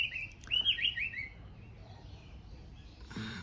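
A bird chirps outdoors in a quick series of bright, fairly close calls during the first second and a half, then fainter background ambience follows with a short rustle near the end.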